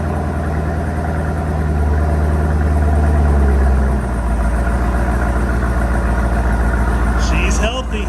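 A Chevrolet Camaro ZL1 idles close by with a steady deep low rumble; the tone shifts slightly partway through before settling back into an even idle.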